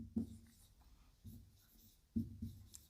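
Writing on a board during a statistics lesson on crude and standard death rates, with three soft tapping strokes of the writing tool and faint room noise between them, no audible speech.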